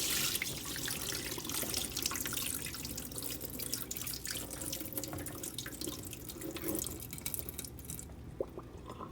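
Water being poured slowly out of a pot of cooked quinoa into a sink, a continuous faint splashing trickle with drips, quiet and fairly close, ending abruptly.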